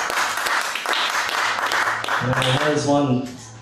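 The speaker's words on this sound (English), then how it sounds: "Give me another round of applause." Applause rings out for a poetry slam performer, a busy wash of clapping at the start that thins toward the end while a voice speaks over it.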